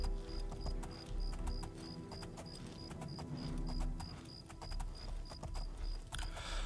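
Horse hooves clip-clopping at a steady riding pace in the video game The Elder Scrolls IV: Oblivion, a rapid even rhythm of close hoof strikes over a soft background hum, with no talking.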